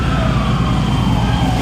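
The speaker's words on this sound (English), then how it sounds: "you can hear more ambulances making their way there" A loud wailing ambulance siren, sustained and close, with a heavy vehicle rumble beneath it and no talking.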